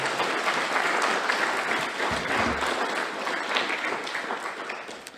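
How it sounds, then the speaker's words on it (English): Students and staff at a Reconciliation Day primary school assembly give another round of applause for two students, a steady wash of clapping that thins out toward the end, with a voice briefly audible beneath. "I think they deserve another round of applause"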